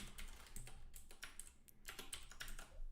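Rapid, uneven clatter of keys on a computer keyboard as code is typed, close and continuous across the whole stretch, with short pauses between bursts.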